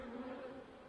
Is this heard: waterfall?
no